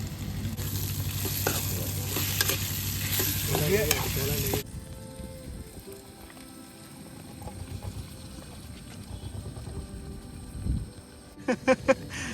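Already-fried potatoes are stirred in a pan at a riverside campsite by the Rupnarayan at Kolaghat, first with a loud sizzle and steady scraping, then quieter low clatter and a few sharp knocks toward the end.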